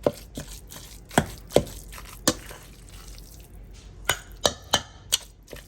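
Vegetables chopped with a dull spoon during home cooking, sharp knocks against a board in an irregular rhythm, about a dozen distinct hits close up with a quiet pause in the middle.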